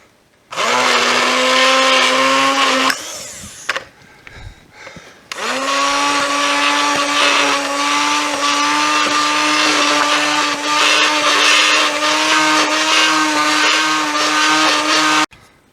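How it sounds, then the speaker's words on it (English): An immersion blender whirs loudly and steadily while stirring a pot of homemade American cheese, pausing briefly partway through before running again at a constant whine until it stops. "we're going to take an immersion blender and stir things up a little"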